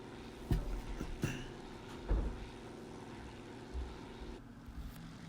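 Spitfire and Bf 109 propeller engines droning in a video game, a low steady hum with a few sharp thumps, moderately faint and without speech.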